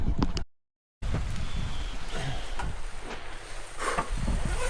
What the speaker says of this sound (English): It's not piercing down with rain. It's quite like wet though. gentle rain